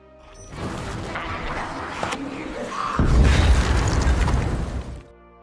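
Explosions blast apart trapped zombies in a film's action scene, with a heavy rumbling boom swelling midway under a steady mechanical, creaking din before everything cuts off.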